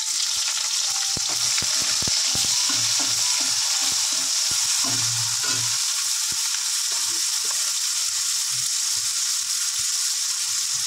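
Onions frying in rendered chicken fat in a pan with bay leaf, cloves and cinnamon, a constant close sizzle with intermittent soft scrapes and stirring knocks.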